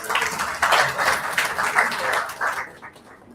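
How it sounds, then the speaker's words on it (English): An audience at a university orientation program claps together in one dense, steady round of applause. It starts at once, holds fairly loud and even for about two and a half seconds, and then dies away fast. "So please have a round of applause for Dr."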